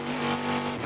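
An aluminum-block, titanium-valve V8 race car at full throttle during an American Le Mans Series race in Baltimore, a loud, sustained, steady high-revving engine roar close by.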